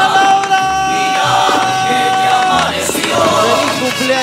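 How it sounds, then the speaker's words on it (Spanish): A crowd cheers and shouts loudly and continuously over music at a live birthday serenade, with the noise staying dense and close throughout. "Y que se escuche los aplausos para Laura."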